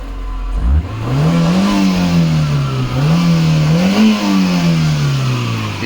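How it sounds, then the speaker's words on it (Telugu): A 2019 Maruti Eeco five-seater petrol engine starts and revs in a steady idle with two rising blips of throttle, close and loud, and no one speaks over it. "ఇది సార్ ఇంజన్ సౌండ్, చూసుకోండి."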